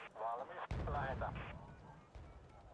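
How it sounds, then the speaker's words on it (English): A mortar round impacts with a sudden deep boom during a military video game. Someone talks over it before and after the blast. "This freaks me the fuck out all the time because it sounds like a mortar round"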